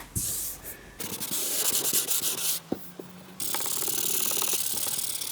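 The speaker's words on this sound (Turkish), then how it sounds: "220 ile de zımparalama işlemimiz bitti" 220-grit sandpaper scrubs back and forth over the painted surface of a car door, a close, harsh rasping in steady strokes with a few brief pauses and knocks, no voices.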